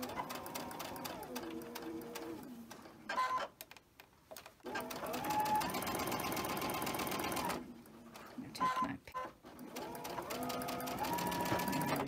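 A sewing machine stitches a quilt block in several bursts of rapid, close mechanical clatter, with brief pauses between runs as the fabric is guided over a bump.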